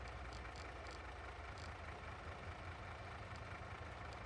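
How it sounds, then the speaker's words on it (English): A vehicle engine idles steadily in Farming Simulator, a low continuous rumble that holds even and faint throughout with no talk over it. "Nope, engine was already running."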